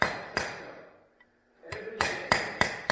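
A hammer strikes a socket to drive the seal out of a Rotax gearbox, eight loud metallic blows close by, two quick ones, a pause of about a second, then a faster run of hits.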